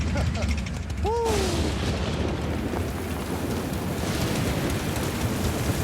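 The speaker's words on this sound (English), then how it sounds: "It's raining!" Rain falls steadily as a broadband wash throughout, loud and close, with a brief voice rising over it near the start.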